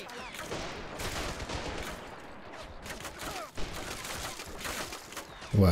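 Machine gun fire from a Valkyrie tournament game rattles in rapid, dense bursts of shots that run throughout, with a sharp louder burst at the end.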